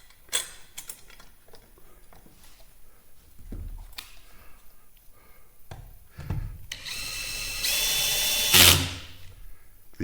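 A power drill drives fine-threaded screws into shiplap boards on a mountain cabin wall, heard as a few short whirring bursts and knocks with one louder sustained run of the drill near the end.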